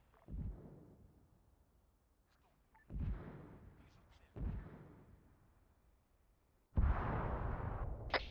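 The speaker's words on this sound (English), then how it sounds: "mortars firing from southwest again" Mortars fire in the Arma 3 video game, four heavy booming launches spaced a couple of seconds apart, each with a rumbling tail, the last loudest and sustained, amid faint radio chatter.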